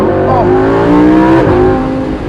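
A Lamborghini Huracan's engine roars loudly and close on the road, its pitch climbing through a gear and dipping briefly before climbing again in one short, continuous burst.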